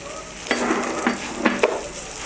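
Chicken and mung dal frying in a pan for tehari, a steady close sizzle with several short scraping stirs of a spoon breaking through at intervals, no voices.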